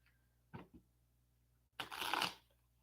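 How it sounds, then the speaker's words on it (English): A deck of cards is bridge-shuffled up close: two quick riffles, then a longer, rapid fluttering cascade as the cards fall together, in a quiet room. "I can do the little shuffle bridge thing."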